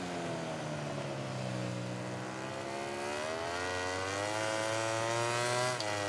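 A damaged race motorcycle with a worn tyre on the penultimate lap in MotoGP 17, its engine whining loudly and steadily, the pitch dipping then climbing as it accelerates.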